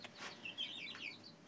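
Five-week-old chickens cluck and chirp softly inside a chicken house, several faint, short calls overlapping in a quiet, steady murmur.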